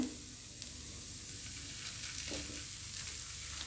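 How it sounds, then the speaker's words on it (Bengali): Egg being mixed into mashed potatoes for an aloo bharta, heard as a soft, steady hiss with a couple of faint scraping strokes, close and quiet. "ডিমটা দিয়ে আলুর সাথে ভালোভাবে মিক্সড করে নিচ্ছি"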